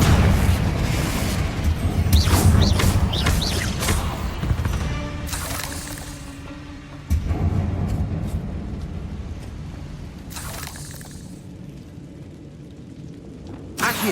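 Confringo spells burst with loud booming explosions in Hogwarts Legacy, several heavy blasts spread across the stretch with crackling debris and rumbling decay between them, no talk.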